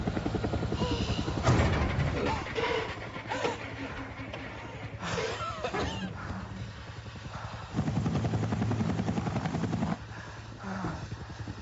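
Loud helicopter rotor noise thumps and roars throughout as the helicopter lifts a car off the ground, with voices and bursts of commotion mixed into the din.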